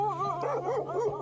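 A dog on an uphill path through dry, cut tea gardens in Kanyam gives a continuous, wavering whine-like yelp, close and fairly loud over a steady low hum, with no talking.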